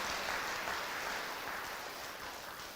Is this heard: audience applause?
yes